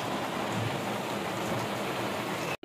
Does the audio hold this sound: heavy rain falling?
yes